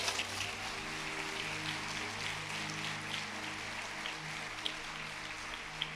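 A church congregation applauds during a Portuguese-language sermon, a steady wash of clapping from many hands with a low sustained hum beneath and a couple of sharper claps standing out.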